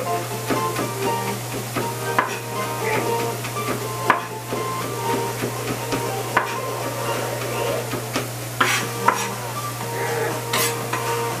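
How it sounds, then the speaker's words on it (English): A knife chops steadily on a board while cooking salmon croquettes, with sharp knocks cutting through continuous sizzling and stirring noise and an underlying hum. "Finally chop that up."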